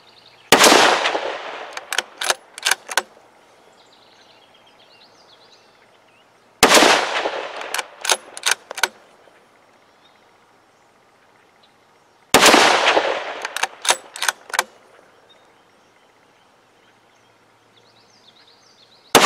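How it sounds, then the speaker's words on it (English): Rifle fired in repeated four-shot groups, a scoped gun being zeroed outdoors: each group opens with a loud sharp report followed quickly by three or four more close, crisp cracks, with quiet gaps between groups. "I'm going to run a four shot group here and we'll see how that works."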